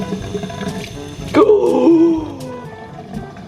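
Warm water running from a tap, a continuous rushing flow with a louder surge partway through before settling back.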